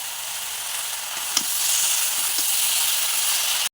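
Fried potatoes tipped into a pan of vegetables and stirred, producing a steady close sizzle with a couple of soft knocks, for a fish, potato and eggplant curry.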